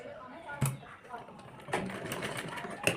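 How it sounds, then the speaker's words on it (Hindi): A sewing machine stitching fabric for a double-frill, umbrella-cut top: short mechanical whirring runs of needle strokes starting and stopping, close by and fairly quiet, with a voice talking over it. "और हम इधर से भी इस तरह से ही सिलाई लगा लेंगे यहाँ पे इस तरह से।"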